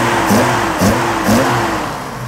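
A BMW E28 with an M30 engine, individual throttle bodies, a full exhaust and standalone ECU tuning revs in three quick, loud, close blips at roughly half-second intervals, settling back to a rough idle.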